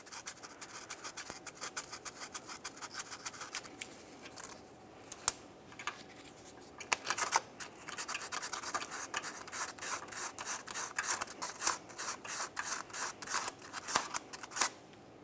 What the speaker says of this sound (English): We'll use sandpaper for this.